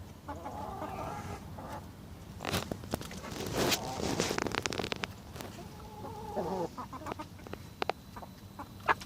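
Young 22-week-old chickens on an allotment cluck and call intermittently, with scattered sharp knocks and scratchy rustles between the soft, nearby bird sounds.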